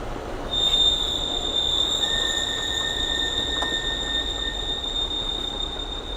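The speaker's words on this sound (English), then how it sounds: "Scare everybody with our brakes." The brakes of a BJ vehicle squeal while it is being driven: a shrill, steady high-pitched whine held for several seconds, with a second fainter tone joining partway, over low road and engine rumble.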